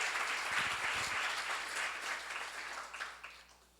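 Seminar audience at a church gathering breaking into applause, a dense steady wash of many hands clapping that swells briefly then tapers, with no talk over it.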